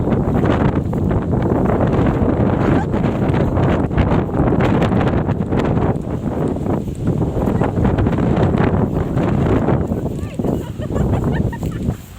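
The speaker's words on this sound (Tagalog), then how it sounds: "malakas ang hangin dito" Strong, gusty wind roars into the microphone throughout, a dense continuous rumble with brief lulls near the end.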